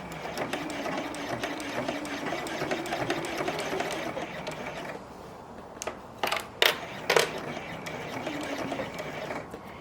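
Sewing machine stitching bias tape onto a coat seam, running steadily at close range for several seconds, then stopping and giving way to a few short, separate bursts of stitching.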